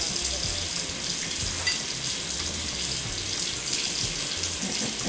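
A kitchen tap runs in a steady, loud, unbroken stream while water is added for meat pie dough, with a low rumbling underneath throughout.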